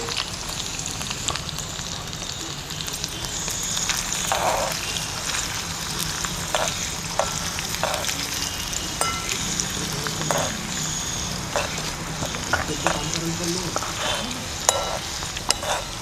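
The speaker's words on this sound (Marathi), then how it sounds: "आता मी अद्रकचा तडका देते." Ginger and green chili tempering sizzling in hot ghee for a chickpea curry, a continuous crackling fry with scattered sharp pops and spoon scrapes throughout, no voices over it.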